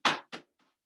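Two sharp palm slaps on the body during a qigong knocking exercise, a louder one then a second softer one, followed by two very faint taps in a quiet room.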